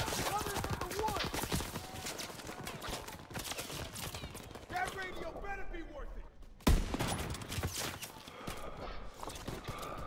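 Rapid gunfire bursts in a war video game, crackling and dense under overlapping voices, with a sharp loud shot near the middle.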